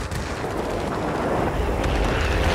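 Warplane cannon fire in the World of Warplanes video game, a dense, continuous rattling roar of rapid gunfire, loud and steady throughout with no talk over it.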